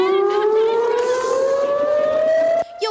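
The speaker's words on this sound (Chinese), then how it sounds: "上空袭警报大响" An air raid siren in Israel wails loudly and alone, one long steadily rising tone that cuts off abruptly near the end, followed by a brief muffled sound.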